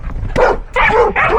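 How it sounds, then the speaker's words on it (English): A dog barks up close in three quick, loud yaps, slightly whiny in tone, with no talking. "if you can hear the barking"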